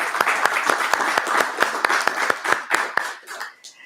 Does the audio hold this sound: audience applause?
yes